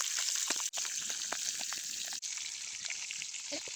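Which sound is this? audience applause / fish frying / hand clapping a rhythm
fish frying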